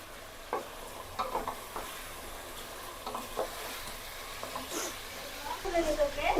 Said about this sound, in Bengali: এখন হচ্ছে চিকেনটাকে একটু ভেজে নিতে হবে